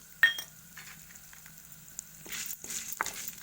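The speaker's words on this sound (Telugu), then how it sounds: "మంచిగా ఎర్రగా అయ్యే వరకు వేయించుకోవాలి నూనెలో" Chana dal and urad dal frying in oil give a faint, sparse sizzle with scattered light scrapes and clicks of stirring, quiet and close, with a sharper tap at the start.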